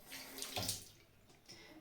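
Tap water runs softly while a surface near the faucet is rinsed, a faint hissing splash that swells briefly and then settles, with no talking.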